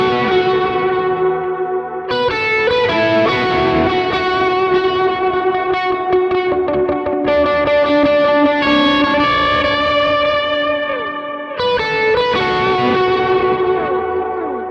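An electric guitar through a Kilt overdrive pedal rings out in saturated, gritty strummed chords and sustained notes, played continuously and loud with brief pauses between phrases and no talking.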